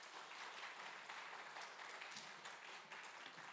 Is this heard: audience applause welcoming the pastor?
yes